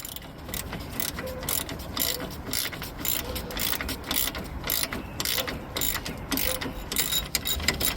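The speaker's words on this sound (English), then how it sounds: "So I've got my ratchet, and I'm just going to go ahead and start unscrewing the bolts." A hand ratchet loosens 10mm bolts on the hood latch of a 2008 Toyota Corolla SE, giving steady rapid clicking bursts up close with brief pauses between strokes, no voices.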